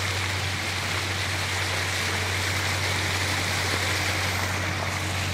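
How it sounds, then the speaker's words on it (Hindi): Irrigation water running steadily onto a cauliflower field on a farm, a continuous loud rushing flow with a low steady hum underneath and no voices. "है पानी चल रहा है,"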